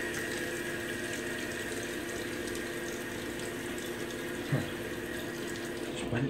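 Tap water runs steadily into a sink during a wet shave, a constant even rush with a brief splash or clatter near the end.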